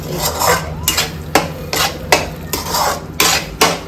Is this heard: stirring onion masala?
yes